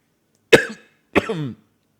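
Two sharp, close coughs from a sound effect button, the second slightly longer and raspier, separated by a brief silence.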